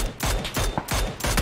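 Rapid bursts of Mini-14 rifle fire in a video game, several loud sharp shots repeating in quick succession across the moment, with no talking over them.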